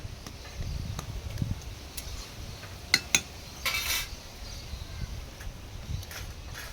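Pots and metal utensils clink and clatter in a kitchen while boiled mango is taken off the heat for straining, with a few sharp knocks over a low background rumble.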